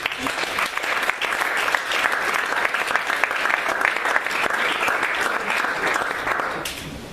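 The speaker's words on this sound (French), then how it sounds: "Est-ce que tu peux acclamer pour le Saint-Esprit?" A church congregation at a Wednesday Bible study applauds for the Holy Spirit, with loud, dense clapping that holds steady throughout before easing slightly at the end.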